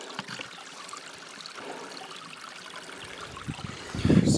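Water draining out of a dug hole in a back step, a soft, uneven trickling and dribbling that stays close, ending in a louder splashy gurgle.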